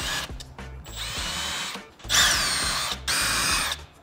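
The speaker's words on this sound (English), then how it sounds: "we're gonna pre-drill with a 5/32 bit" A power drill with a 5/32 bit pre-drills holes in a wall for a Tesla Gen 3 Wall Connector. It whines in two close, steady bursts separated by a brief stop.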